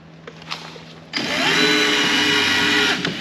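A motorized tug pulling out a 1992 Beechcraft Bonanza A36 starts up with a steady, loud electric whine that holds for about two seconds. It follows a quieter stretch with faint clicks.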